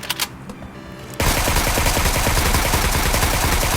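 Gunfire in the video game PUBG Mobile: after a quieter opening with a few faint shots, loud dense rapid firing erupts suddenly and continues unbroken to the end.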